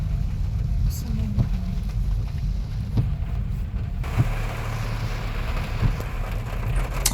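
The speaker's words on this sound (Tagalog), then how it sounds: "Rinig nyo naman, diba? Yung patak sa bubong namin." Raindrops patter on the roof of a Suzuki S-Presso during a camping trip in Dolores, Quezon, a dense soft drumming over a low engine rumble, with a few louder drips and a person talking.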